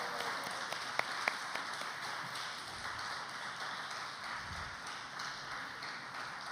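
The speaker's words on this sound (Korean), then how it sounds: "더 뜨거운 박수로." Congregation clapping at a Sunday youth worship service to encourage an engaged couple, a moderate, steady patter of many hands with a few sharper taps near the start.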